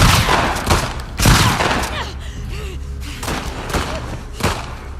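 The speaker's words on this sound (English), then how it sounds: "Shotgun!" Shotgun blasts in The Last of Us Part 2, several loud booming shots at irregular intervals mixed with game combat thuds and brief voices.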